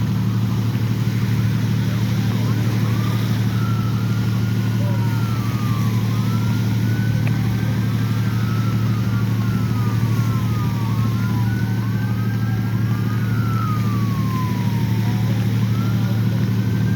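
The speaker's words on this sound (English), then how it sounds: "I think the ambulance is making its way through the traffic now." An ambulance siren wails repeatedly through traffic, rising and falling sweeps at moderate distance over a heavy, constant low rumble of idling engines and street noise.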